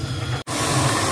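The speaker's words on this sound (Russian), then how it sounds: "мне нужно чайник разогреть" A loud, steady rushing hiss of a kettle heating water, cut by a split-second dropout before it carries on.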